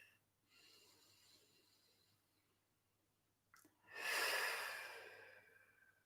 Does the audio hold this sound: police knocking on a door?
no